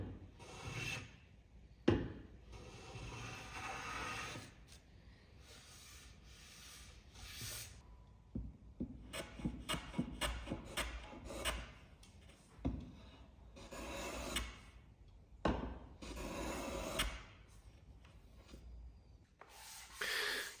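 A jack plane bevels the edges of English walnut boxes by hand, giving quiet, irregular rasping strokes in short bursts separated by pauses, close and fairly soft.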